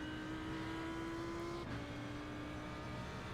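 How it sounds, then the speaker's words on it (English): Race car held at full throttle in iRacing on the Nürburgring 24h circuit, a steady engine drone with a sustained tone that dips briefly midway, probably a gear change, then carries on loud and continuous. "Stay within the concrete and full throttle on the way out."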